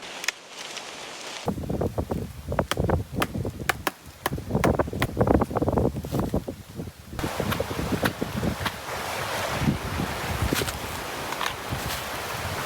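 Wood is carved into a spike with repeated short chopping and scraping strokes, close up, set against wind and rustling outdoors on a desert island.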